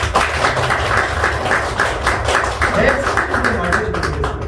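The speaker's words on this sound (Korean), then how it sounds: "이때 박수" Applause rises from an audience at a Korean corporate social-contribution lecture hall, a dense steady wash of many hands clapping throughout, moderately loud with some voices mixed in.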